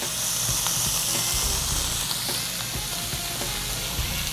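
Tuna and garlic searing in a hot pan for paella, a steady close sizzle and hiss with faint spattering crackles throughout.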